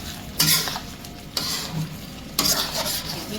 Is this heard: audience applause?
no